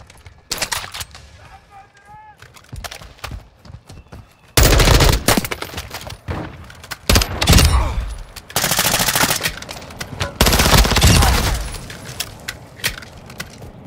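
Bursts of rapid gunfire from the video game Call of Duty: Warzone 2.0 DMZ crackle in several loud, sustained volleys, with quieter stretches of scattered shots and faint chatter between them.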